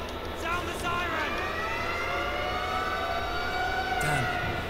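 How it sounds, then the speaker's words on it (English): An alarm siren in the video game Troll and I wails with long rising and falling tones over game noise, steady and moderately loud throughout the moment. "Sound the siren."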